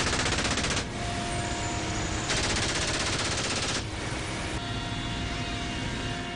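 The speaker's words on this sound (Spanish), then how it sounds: "algunos disparos de advertencia a los que se acercaban peligrosamente a la zona de evacuación" Bursts of rapid automatic gunfire crackle as warning shots near an evacuation zone, dense and continuous over a loud steady background roar, with intensity swelling and easing in several waves.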